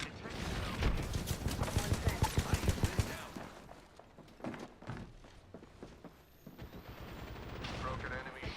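Rapid automatic gunfire bursts in the Apex Legends video game, loud close cracking volleys for the first three seconds, then scattered shots and clanking mechanisms with a muffled voice beneath.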